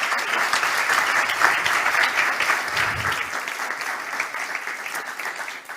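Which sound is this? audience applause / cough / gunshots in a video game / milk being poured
audience applause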